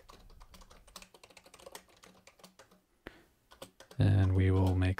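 Quick bursts of computer keyboard typing as a password is entered, soft close clicks in an uneven run, followed by a loud sustained tonal burst near the end.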